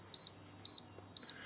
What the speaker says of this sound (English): If you want to do a selfie, stick it on self, push the button down, you'll hear this annoying beep.